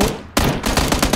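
Loud gunfire from the battle royale game PUBG rings out as a single shot, then after a brief pause a rapid string of sharp, close bursts keeps going with no voices.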